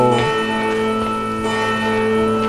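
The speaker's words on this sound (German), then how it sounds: "Da ist nämlich meine Glocke." A church bell in the video game Medusa's Labyrinth tolls loud and sustained, its ringing tone holding steady and resonating throughout without fading, with no talk over it.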